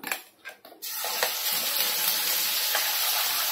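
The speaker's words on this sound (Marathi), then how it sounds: "वाटण ना छान भाजून घ्यायचंय, कच्चापणा त्याचा पूर्ण घालवायचा आहे" Ground masala paste drops into hot oil and bursts into a loud, continuous sizzle that holds steady as it roasts, close by, after a few brief clatters at the start.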